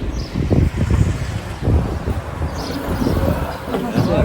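Wind blowing outdoors on a walk, gusty low rumbling buffeting against the microphone in uneven bursts, with voices talking over it.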